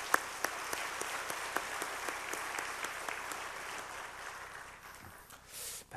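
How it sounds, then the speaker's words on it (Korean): Applause from a church congregation during a Wednesday worship service, a steady wash of many hands clapping with a few sharper claps standing out, sustained for several seconds before thinning toward the end. "다시 한번 격려의 박수 하시겠습니다"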